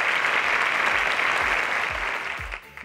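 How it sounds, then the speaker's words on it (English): A studio audience at a mathematics contest semifinal claps steadily and loudly as a contestant leaves the stage, with the applause thinning out at the end. "Please give him a round of applause as he exits the stage."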